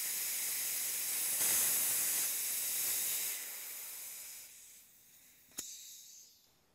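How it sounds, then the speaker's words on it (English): Pressure self-vents from a Ralston quick-test fitting on a DP transmitter connection as a loud, close, steady hiss that fades out over several seconds, ending with a sharp click. "the Ralston Quick Test connection will safely self-vent instead of blowing off"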